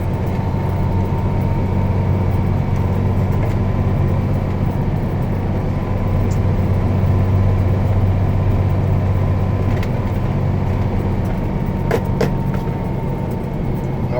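Inside the cab of a moving truck, a loud, constant low engine and road rumble fills the space, with steady broadband hiss and occasional faint clicks and no voices.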